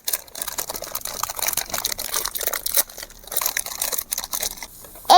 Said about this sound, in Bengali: এখন আমি ম্যাগির প্যাকেটটা ছিঁড়ে